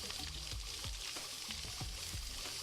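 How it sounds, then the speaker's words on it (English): Water comes to a boil over a Bunsen burner in Chaos on Deponia, a steady bubbling sizzle with soft low pops at a regular pace, close and fairly quiet. "The Bunsen burner is bringing the water to a boil."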